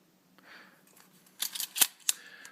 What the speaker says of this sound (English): the opening, closing of that shutter.